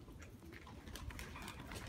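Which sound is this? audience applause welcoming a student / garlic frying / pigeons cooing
pigeons cooing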